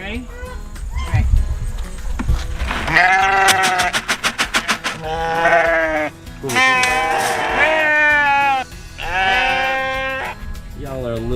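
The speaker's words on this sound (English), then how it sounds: "The sheep are gonna come running after me." Sheep bleat loudly and repeatedly as a bucket is shaken, several overlapping bleats including a rapid stuttering one, with people talking amid the flock.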